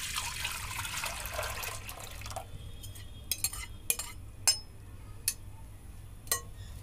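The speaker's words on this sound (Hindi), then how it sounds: "अब हम उसमें अपना इमली का पल्प पूरा डाल देते हैं" Tamarind pulp is poured into a cooking pot for sweet tamarind chutney with a steady, close liquid rush for about two seconds. Sharp metallic clinks of the pot and utensils follow at scattered intervals.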